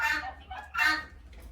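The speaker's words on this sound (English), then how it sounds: "here comes a rooster up behind" A rooster on a farm gives two short, faint clucks close by, with quiet background between them.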